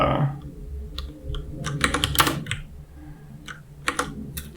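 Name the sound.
typing on a new computer keyboard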